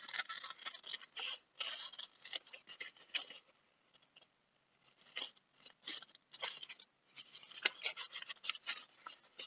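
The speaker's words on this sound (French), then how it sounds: "j'aurais envie, moi, de découper ça de cette façon-là." Scissors cutting out a shape for a science craft project, close-up crisp snipping and paper rustle in irregular bursts with a short quiet gap midway.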